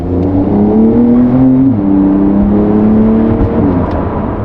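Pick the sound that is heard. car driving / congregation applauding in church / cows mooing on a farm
car driving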